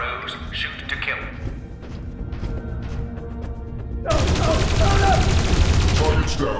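Guards open fire in Dreamfall Chapters: a scene of clanking and a voice gives way to a sudden burst of loud, sustained gunfire that fills the last few seconds.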